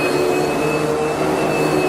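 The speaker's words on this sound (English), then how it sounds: "Even though the exhaust sounds like a vacuum cleaner." Exhaust from a BMW S55 engine in an M3, M4 or M2 Competition gives a loud, steady, airy whooshing drone, much like a vacuum cleaner, held unchanged for about two seconds.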